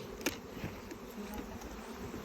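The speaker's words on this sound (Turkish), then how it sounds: "Etrafta şöyle bir arı yoğunluğunu da göstereyim." Dense, continuous buzzing of many honey bees swarming close by during a honey harvest at the hive, with individual bees droning past now and then.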